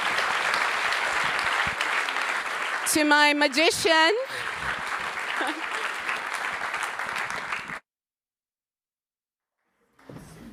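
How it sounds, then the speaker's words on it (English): Audience applause at an awards ceremony, a dense crowd clapping for several seconds with a host speaking over it before cutting to silence, then a brief return of sound. "Let's give a round of applause"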